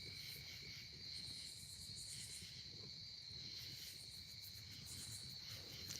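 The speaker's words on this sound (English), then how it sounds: "Listen to all the katydids, crickets" Crickets and katydids trill in a constant, high-pitched chorus at night, an unbroken buzzing drone with no voices.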